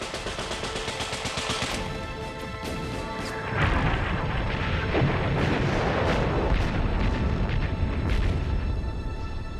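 A World War I artillery bombardment roars without pause, with heavy booming blasts, crashing impacts and sharp cracks piled into a loud, dense din that grows heavier partway through.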